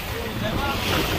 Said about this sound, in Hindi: आज पानी बहुत तेज है